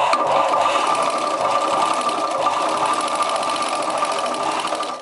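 A sewing machine runs a second row of double stitching along the sleeve and shoulder join of a chudidar top, a close, steady, continuous whir with no pauses.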